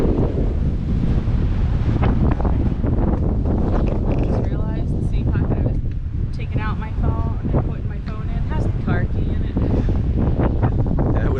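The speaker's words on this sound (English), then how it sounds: "I said wind and it got windy." Strong wind in Black Rock Forest, New York, roars and buffets the microphone in a loud, continuous low rumble, with a person's voice breaking through briefly.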